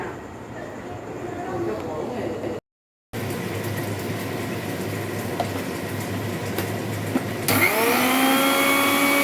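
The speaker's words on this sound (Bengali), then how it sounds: "এখানে আমি নিয়েছি পোস্ত পোস্তটা আমি মিক্সিতে পেস্ট করে নেব" Kitchen mixer grinder running loudly as it grinds poppy seeds into a paste, a steady whirring drone with a brief stop before the motor resumes and then pitches up toward the end, with no talking.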